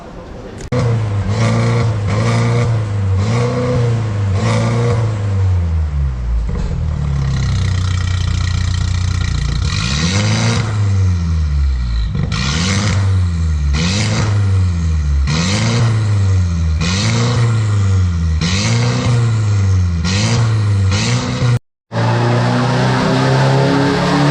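A Mercedes-Benz W238 with a tune and an aftermarket Euro Arts exhaust idles loudly with a deep, raspy tone, then blips the throttle in a series of sharp rhythmic revs, close and aggressive.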